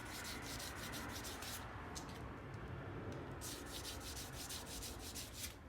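Serpentine stone is rubbed with 220 grit sandpaper in fast, rhythmic back-and-forth strokes, a faint, close scratchy hiss that pauses briefly midway and then resumes.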